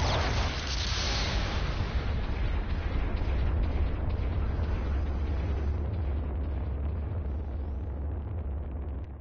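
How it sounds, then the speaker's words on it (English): A mobile suit blowing up in a Gundam video game: a loud, sustained explosion roar with dense rumbling low end and crackling debris, filling the whole stretch before slowly easing off. "Your mobile suit has been destroyed!"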